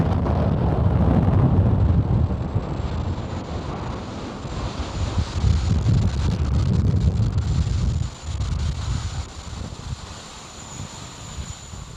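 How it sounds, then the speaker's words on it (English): Falcon 9 rocket lifting off from Slick 4E on the NROL-146 launch, a sustained broadband roar and rumble with crackling texture, loud and steady for about eight seconds before easing slightly, with no voices. "Falcon 9 has successfully lifted off from Slick 4E"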